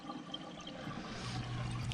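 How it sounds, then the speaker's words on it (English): Water drains out of a toilet tank during repair work on an overflowing toilet: a quiet, close gurgling trickle that swells slightly toward the end, with no talking. "So you can see it's draining out of the tank."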